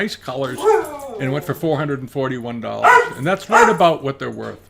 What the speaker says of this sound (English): That's my dog Skipper, begging for his dinner.